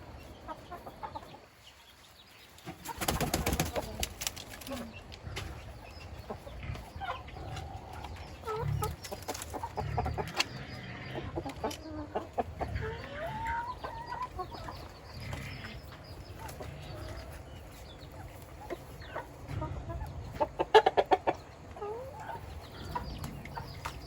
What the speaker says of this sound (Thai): อันนี้ไก่ชนน่าจะเป็นไก่ชน